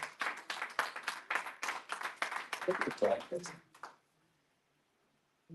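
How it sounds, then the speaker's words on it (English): An audience at a revival workshop claps steadily and warmly to welcome a speaker to the stage, the applause lasting about four seconds before stopping abruptly into near silence. "So please put a big round of applause as he comes up and runs his workshop"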